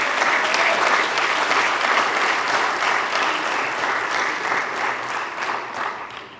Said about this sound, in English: give her a round of applause here too